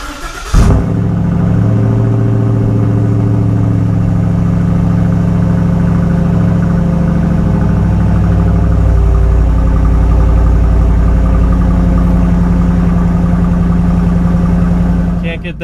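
A truck engine, not a V6 EcoBoost, runs loud and close with a deep, steady rumble that rises and falls as it revs.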